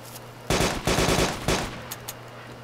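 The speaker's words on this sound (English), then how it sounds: "I hear gunfire." Bursts of automatic gunfire in the video game DayZ crackle loudly: three rapid full-auto strings in about a second and a half, then two faint distant shots.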